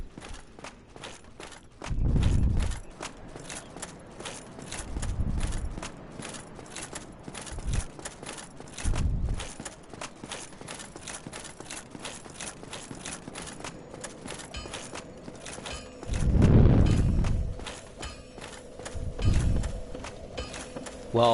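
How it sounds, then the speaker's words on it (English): A player character walks in Dark Souls Remastered, the steps crisp and steady across the whole stretch, with several heavier low thuds mixed in and faint background ambience underneath. "I keep hearing footsteps, but I think they were my characters."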